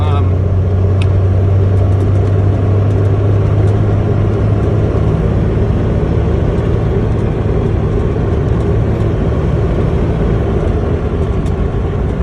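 A 2002 Dodge Ram 2500 with the 5.9 Cummins diesel driving along, heard from inside the cab as a loud, steady low engine drone and road rumble that holds for the whole stretch.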